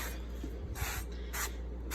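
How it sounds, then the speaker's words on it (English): Cooking spray from an aerosol can misted into an oven-safe baking dish while preparing banana bread, two short hissing bursts close by with a quiet pause between them. "I want to spray it"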